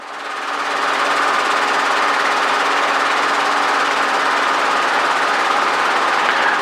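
A helicopter hover taxiing, a loud, dense, unbroken rotor and turbine roar that rises in the first second and then holds steady and close.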